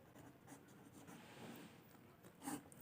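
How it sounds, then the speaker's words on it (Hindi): Pen writing by hand on paper gives a faint, close, soft scratching of short strokes, with a slightly stronger tap near the end and no talk. "मैं यहाँ लिखता हूँ एग्जाम्पल"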